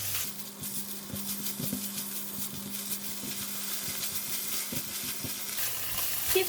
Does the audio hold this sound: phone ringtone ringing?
no